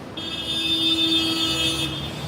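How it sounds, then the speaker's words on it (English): Car horns honking on Lexington Avenue in Manhattan, one loud sustained blare lasting most of two seconds over a steady wash of city traffic. "that's a sign that things are back to normal when you hear the loud car honking"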